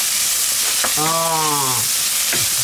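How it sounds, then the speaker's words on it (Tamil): Crushed ginger and garlic sauté in hot oil for a fish stew, a steady close sizzle and crackle, with a brief humming tone rising over it midway. "இதோட போட்டு கொஞ்சம் ஒரு அஞ்சு நிமிஷம் திரும்ப வதக்கப்படும்"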